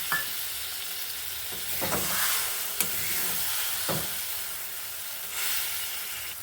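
Cashew paste and a splash of water being stir-fried into a potato and pointed gourd korma curry, a steady close sizzle with spoon scrapes and stirring knocks scattered through, no voices.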